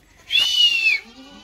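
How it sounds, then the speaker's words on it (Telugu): A single goat bleats once, loud and near, a wavering nasal cry lasting about half a second, with quiet farmyard ambience after it. "మేకలు కూడా ఉన్నాయి చూస్తారు కానీ"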